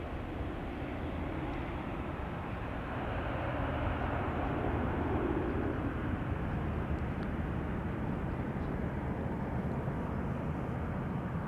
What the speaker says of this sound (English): there is another KLM 737-800 coming this way to Dublin